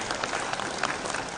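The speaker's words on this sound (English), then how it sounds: "So I want you people to give a round of applause to three people." An indoor audience at an HR conclave claps in a steady, moderately loud round of applause that lasts throughout, with no one speaking over it.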